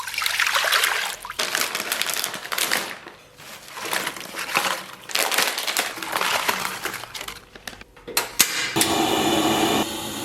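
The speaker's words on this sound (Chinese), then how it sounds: "给锅里边稍微来点水" Water splashes and rushes into a cooking pot in uneven bursts, with clattering knocks against the metal and a steadier hiss toward the end, loud and close, no talking.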